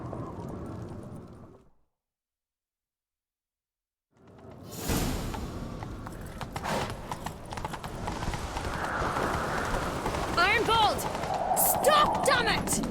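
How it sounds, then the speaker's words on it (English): A horse gallops in the video game The Witcher 3. After a short silence, rhythmic clip-clop hoofbeats start up and keep going steadily, with whooshing game effects around them. "Grab a horse, we'll chase him down."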